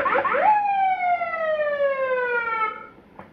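An incoming call tone from a DX959 El Jalisciense Edition CB radio: a short warbling burst settles into a single electronic tone that glides slowly downward for a few seconds, ending with a faint click.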